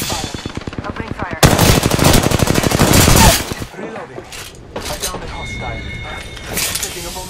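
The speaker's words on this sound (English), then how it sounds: "Getting shot at." Automatic weapon fire in the Apex Legends video game, rapid bursts that swell into a loud, dense volley before easing into scattered shots, with a voice speaking over parts of it.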